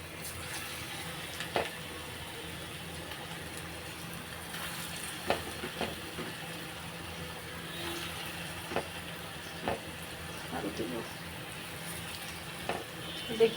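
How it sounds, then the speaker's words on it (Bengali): Small fritters fry in hot oil with a steady, soft sizzle and occasional faint clicks and taps of a utensil, fairly quiet and continuous, with someone talking over it at times. "তেলটা অবশ্যই গরম হয়েছে, এখন আমি দিয়ে দিচ্ছি।"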